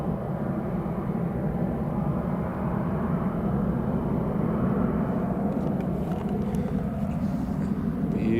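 A large aircraft roars steadily on departure from Newcastle International Airport, a broad continuous rumble heard from a distance at constant loudness, with no voices over it.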